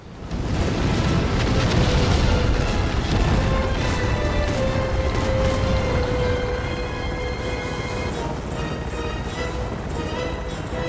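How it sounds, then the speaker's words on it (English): Explosions roar through a helicopter sequence in the James Bond video game Everything or Nothing, a loud, nearly unbroken wall of booming blasts and rumbling debris lasting about ten seconds. "all of the stuff is blowing up around you"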